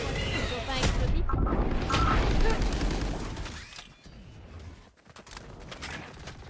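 Chaotic Valorant gunfight with a Boom Bot explosion among bursts of gunfire and booms, loud and dense at first, then thinning out with brief gaps.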